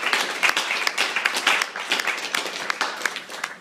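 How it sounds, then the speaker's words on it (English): A fundraising audience in southern Dallas applauds, producing a steady, fairly close wash of many hands clapping that holds throughout. "Give yourself a round of applause."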